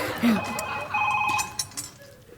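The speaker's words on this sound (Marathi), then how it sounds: "गौरव, तुझा फोन वाजतोय, उठ." A phone rings with a short electronic tone on stage during a Marathi comedy show, brief and set among voices.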